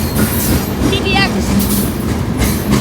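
An autorack freight train rolls past with a steady, loud rumble and rattle of railcars, a voice talking over it.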